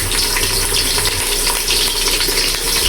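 Ginger and onion paste fries and gets stirred in hot oil for biryani, giving a steady, loud, close sizzle with soft scraping from the stirring and no voices.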